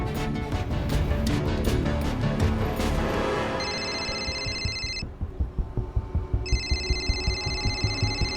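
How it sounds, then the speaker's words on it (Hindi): Amid a dense, pounding dramatic score, a phone's electronic ringtone trills in two repeated bursts, ringing out clearly over rhythmic thumping beats. "मेरे एक इशारे पे किसी का भी फोन बजे"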